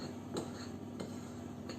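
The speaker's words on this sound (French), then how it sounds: "j'ai remué ma préparation de biscuits avec le beurre" A spoon scraping and tapping a bowl while biscuit crumbs are stirred with butter for a cheesecake base, three faint clinks at an even pace over a low steady background.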